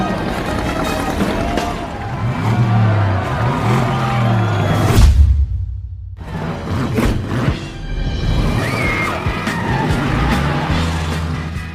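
Racing cars skid and roar during a Herbie film race, a loud continuous engine and tire noise with a crowd behind it, a brief sudden drop near the middle, then the racing resumes with music and voices over it.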